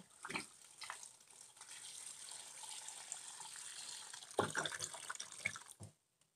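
Running tap water splashing over freshly picked papaya as it is washed, a soft continuous stream with brief splashes and drips that stops near the end, faint and close, with no voices.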